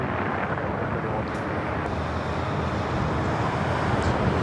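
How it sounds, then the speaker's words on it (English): United Boeing Dreamliner airliner touching down at LAX, heard as a steady, broad roar of jet and wind noise that holds evenly throughout, distant and continuous with no distinct impacts. "Of United Dreamliner touching down"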